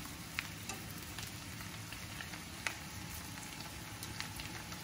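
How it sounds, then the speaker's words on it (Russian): Potatoes fry in a pan on high heat with a faint, steady crackling sizzle. Occasional small pops rise above it, and there is no speech. "картошка, и она на сильном и жарится"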